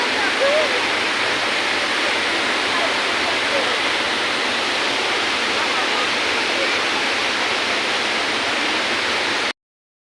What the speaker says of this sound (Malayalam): ഇപ്പോൾ മഴക്കാലമായതിനാൽ തന്നെ വെള്ളം ഒത്തിരി ഉണ്ട് കേട്ടോ. നല്ല ഫോഴ്സിലാണ് വന്നുകൊണ്ടിരിക്കുന്നത്.